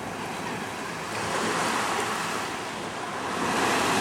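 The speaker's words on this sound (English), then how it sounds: "the sound of waves hitting that rocky coast" Waves surging against a rocky coast at Monterey, a loud, continuous roar of surf swelling and breaking close by, with wind buffeting the microphone.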